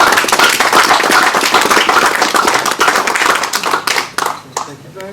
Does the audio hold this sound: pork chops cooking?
no